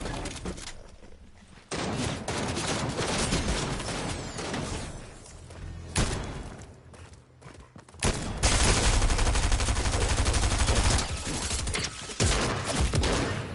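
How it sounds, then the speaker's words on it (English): Fortnite video game combat: bursts of assault rifle fire and heavy shotgun blasts crowd together in loud, dense volleys, with brief lulls between them. "Pretty sure I was just shot with a shotgun, but okay."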